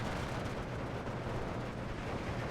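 155mm artillery firing in the strategy game Steel Division 2, a constant heavy rumble of booming shots and blasts rolling together at a steady, fairly loud level.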